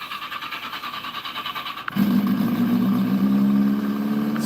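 A Yamaha engine with a hollowed-out exhaust is heard in a garage during a cold start: a rhythmic cranking or light idle, then the engine catches and settles into a loud, low, raspy idle that carries on steadily.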